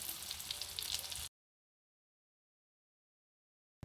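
Chicken shami kababs frying in a pan give a dense, crackling sizzle for just over a second before the sound cuts to complete silence.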